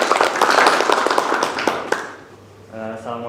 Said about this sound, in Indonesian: kasih tepuk tangan yang luar biasa untuk kelompok 1